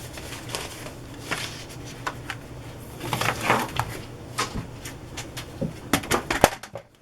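Close, irregular rustling and flapping of a stiff paper scrapbook craft being handled and shifted about, with soft taps and crinkles, no talking.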